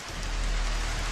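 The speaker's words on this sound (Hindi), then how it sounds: "चारों तरफ केवल बारिश की आवाज और कीटों की किटकिट थी" Steady rain pours through a forest at night, a dense continuous hiss of drops on leaves and ground, loud and close, with no voices.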